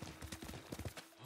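Horse in the Ghost of Tsushima game, a quick series of hoof clops and thuds close by, mixed with a voice talking over it.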